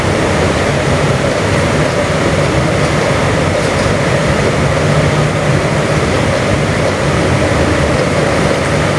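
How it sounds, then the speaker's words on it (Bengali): Steady, heavy rumble of a train slowly accelerating from a stop onto a bridge, a continuous dense roar with no voices. "ট্রেনের স্পিড কম, কারণ থেমেছিল, এই জন্য আস্তে আস্তে স্পিড বাড়াচ্ছে এবং ব্রিজের উপরে যাচ্ছে"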